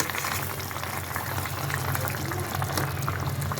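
Half-cooked eggplant simmers in a covered pot for a Bengali fish curry, giving a steady, close bubbling and hissing boil that holds even from start to finish, with no talking.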